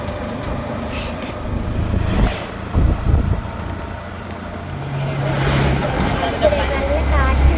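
Strong wind buffets the microphone during an auto rickshaw ride, with low rumbling gusts over the steady drone of the small engine and passing traffic.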